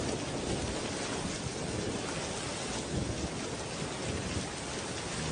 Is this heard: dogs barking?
no